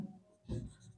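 Pen strokes writing out a matrix by hand during a maths lesson, a brief, quiet scratch of a few strokes up close.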